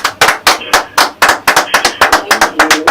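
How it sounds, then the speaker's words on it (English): Close, loud hand clapping in a radio studio interview: a quick, even run of about fifteen sharp claps in three seconds, with no voices over it. "another round of applause for our sister."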